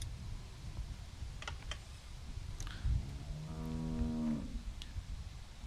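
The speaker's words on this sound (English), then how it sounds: "How do you like that cow, Clint?" In The Walking Dead video game, a cow gives one drawn-out low moo, clear and fairly close, with soft keyboard clicks and ticks around it.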